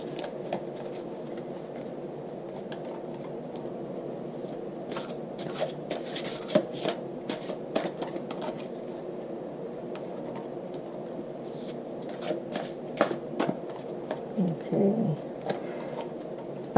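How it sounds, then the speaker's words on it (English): Thick deck of cards being shuffled by hand, giving a steady soft riffling and rustling texture with a few louder snaps and bursts, fairly close and continuous throughout. "Now, this is a really thick deck. It's hard for me to shuffle."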